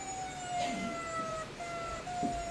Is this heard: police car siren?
yes